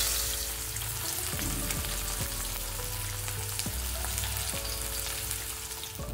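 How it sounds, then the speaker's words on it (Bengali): Fish pieces and diced potatoes fry in hot oil for a Bengali fish curry, a continuous close crackling sizzle with low thumping handling noises underneath, no talking. "মাছগুলো আমি এবার ভেজে নেব।"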